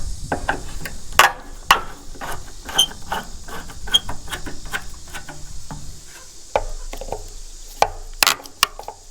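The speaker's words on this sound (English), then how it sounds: "loosen this clamp up, loosen that clamp up, and see if I can slide this hose in towards the radiator" Metal clicks and small knocks of a screwdriver loosening hose clamps on a Farmall Super M tractor radiator hose, an irregular run of close, sharp taps with faint mechanical rattles and no talking.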